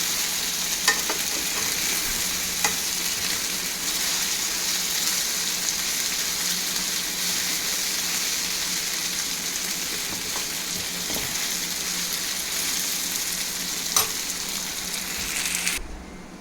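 Small chicken pieces fry in hot oil in a pan, a loud, continuous dense sizzle close up with occasional faint clicks, steady from start to finish.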